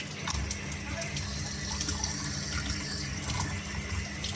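Tap water runs steadily into a sink while raw chicken is rinsed, a close continuous splashing rush with small shifts as the meat is handled under the stream.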